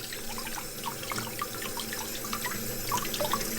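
Soft sloshing and trickling of water as waterproof winter gloves are dipped and moved around in it, quiet and close over a low steady hum.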